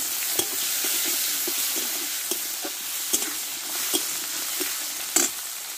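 Tomato sizzling in a hot pan while cooking fish head with sweet pumpkin: a steady close frying hiss, with light scattered clinks from stirring and a sharper scrape near the end.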